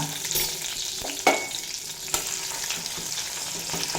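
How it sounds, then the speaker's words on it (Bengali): Crushed ginger and green chillies frying in a pan with tomato for a pumpkin dish, a steady close sizzle broken by a couple of sharp spatula knocks and scraping stirs. "দিয়ে আদা কাঁচা লঙ্কার কাঁচা গন্ধ চলে যাওয়া পর্যন্ত ভেজে নেব"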